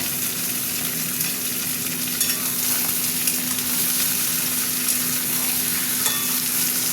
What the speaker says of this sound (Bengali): মাংসটা একটু ভাজবো তেলের সাথে